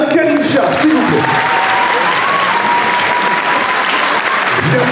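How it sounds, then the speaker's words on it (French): An audience applauds at a jury introduction for a cosplay competition, a dense, steady clapping that sustains loud and even throughout. "c'est vrai qu'elle a le droit à des applaudissements Galou"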